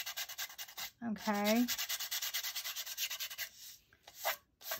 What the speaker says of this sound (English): You're not using sandpaper, just a nail file.